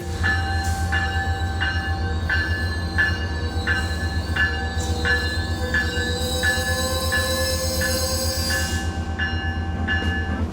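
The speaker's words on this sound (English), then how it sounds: "Another Metrolink train pulls into the station, with some insane braking being applied" A Metrolink commuter train pulls into a station under heavy braking, its wheels squealing in steady repeating high-pitched bursts over a loud, continuous rumble of rolling cars, close by and without voices.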